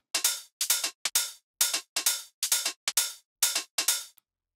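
A UK garage drum loop of crisp closed hi-hats and light percussive hits plays in a swung, shuffling rhythm, about ten bright clipped strikes over four seconds with no kick and no voices.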